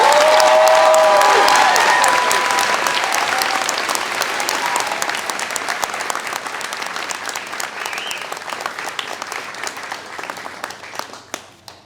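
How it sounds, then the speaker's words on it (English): Sustained applause fills a hall for graduates at the 2024 UMaine Machias commencement, loud and dense at first with a few cheers, then gradually thinning into scattered claps as it fades out. "let's just do another round of applause for all of our graduates"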